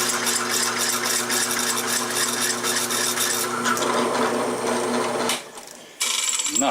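Masonry drill bit grinding into a steel mower blade, a loud, close, steady mechanical whir with rasping chatter that stops briefly near the end and then starts again.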